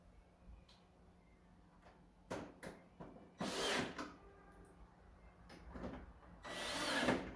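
Bolts are fastened with a power drill on an LG air conditioner panel, short bursts of whirring driver spin with a few clicks and handling knocks in between, fairly close and moderately loud against a quiet room.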